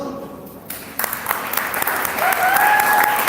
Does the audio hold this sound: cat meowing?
no